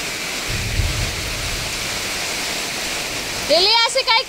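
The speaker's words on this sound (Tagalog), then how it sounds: "Inabot na tayo dito sa bagyo yata." Heavy rain pours steadily during a typhoon at sea, a dense close wash of noise throughout, with a low rumble of thunder early on and a voice speaking briefly near the end.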